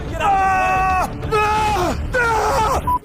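A man strains and grunts with effort while climbing, three drawn-out loud vocal groans, each about a second long with short pauses between, close to the mic.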